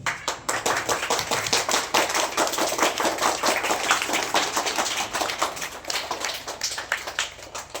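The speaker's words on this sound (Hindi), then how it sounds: "आप सबों से निवेदन करेंगे कि आप जोरदार ताली से उनका हार्दिक अभिनंदन करें" A school audience gives loud, sustained applause to welcome quiz participants at a language summer camp, many hands clapping steadily throughout and fading slightly toward the end.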